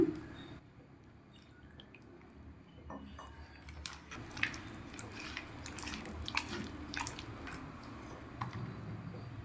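Dough for a crispy, spicy Indian mixture is worked by hand after water is added, giving faint wet squishing and soft clicks of a spoon or bowl, quiet and close, growing busier toward the end.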